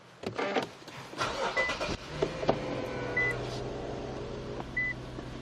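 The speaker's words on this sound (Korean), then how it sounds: "시동 부터 한번 걸어보도록 할게요." An Infiniti luxury sedan engine starts with a brief cranking whir that catches into a smooth, quiet idle, accompanied by a few soft electronic chimes, recorded close from inside the car.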